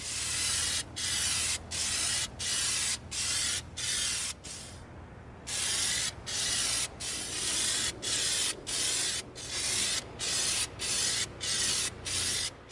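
Aerosol can of Plasti Dip sprayed onto an EVA foam knight helmet on a stand, a close, steady hiss in regular bursts of about half a second with brief gaps and one longer pause midway.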